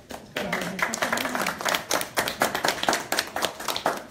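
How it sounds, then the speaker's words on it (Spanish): An audience claps for a woman named Esperanza at a product training session, a fairly close round of individual hand claps with an uneven, lively rhythm and no voices over it. "Vamos a dar un aplauso a..."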